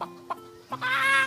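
A chicken clucks in a few short separate bursts, then lets out a longer, louder, strained call at the end. It sounds close, with no talking.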